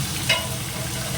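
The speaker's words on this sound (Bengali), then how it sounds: "এবার একটু কষিয়ে নিই ভালো করে, টমেটোটাও গলে যাক, কাঁচা গন্ধটাও মরে যাবে।" Tomato frying in a pan with turmeric, cumin powder and ginger paste gives a steady soft sizzle, with one brief stirring scrape near the start.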